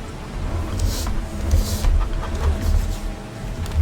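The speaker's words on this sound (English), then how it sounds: "If these chickens can get out of the way." Chickens in the Farming Simulator 25 farming game cluck in short bursts over a steady low rumble of machinery, several birds close by with soft repeated calls.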